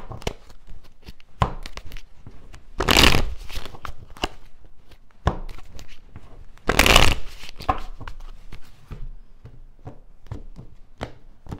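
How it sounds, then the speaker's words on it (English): Playing cards shuffled three times in quick succession, each riffle a loud crisp burst standing out against lighter card handling and taps between, close to the microphone with no talk. "3 shuffles."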